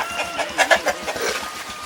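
Chickens cluck in short, irregular bursts at moderate volume against a steady low hum of background noise in a rural village by rice fields in Cianjur.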